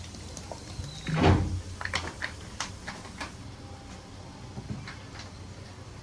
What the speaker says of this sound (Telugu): ఇదిగోండి వాటర్ అయితే పోసుకున్నా